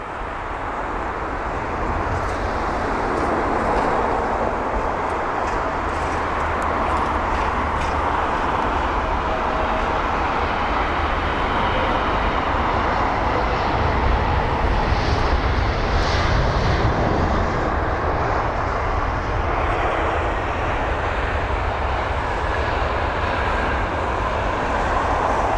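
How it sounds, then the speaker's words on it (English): Lufthansa A320neo airliner taxiing at speed at London Heathrow, a loud, steady jet engine roar with broad rushing noise that holds constant throughout. "Oh, the Lufthansa 320neo taxiing at speed."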